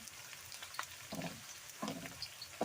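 Garlic, onions and steak sizzle in a pan for stir-fried rice, a soft steady crackle with several louder hissing bursts as food is stirred.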